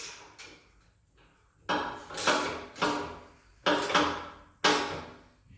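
Wrenches clank and ratchet against metal while snugging lock-nut bolts on a pump, five sharp, loud metallic strikes each trailing off into a grinding rasp, close and without talk.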